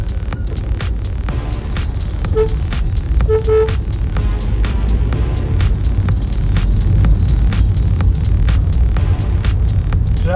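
Road traffic passes close beside a truck on a road under construction, a loud steady engine rumble and throb with a few brief higher tones like short horn toots cutting through.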